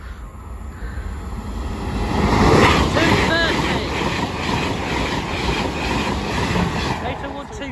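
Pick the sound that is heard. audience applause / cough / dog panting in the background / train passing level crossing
train passing level crossing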